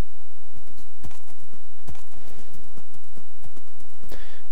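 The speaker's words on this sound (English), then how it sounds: "Got my horse over here." Horse hooves in the video game Minecraft clip-clop in a quick, uneven rhythm of sharp, close knocks over a soft background, with no voices.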